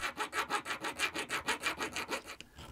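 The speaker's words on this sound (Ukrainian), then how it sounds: "Зводимо кут по центру напилком." A hand file worked over a handmade metal fishing lure gives about fifteen rhythmic rasping strokes at an even back-and-forth pace, close and moderately loud, stopping near the end with no voices.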